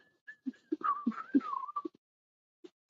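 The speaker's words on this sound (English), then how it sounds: "Why am I whistling that?" A person whistles a short wavering melody during a live astrology reading, fairly close and moderately quiet, with soft knocks under the tune and near silence after it fades.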